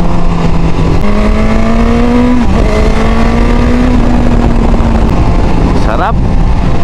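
A Suzuki GSX-S1000 motorcycle engine revs hard through the gears with an auto-blipper, a loud sustained tone rising in pitch with quick blipped downshifts and shifts, steady wind roar throughout.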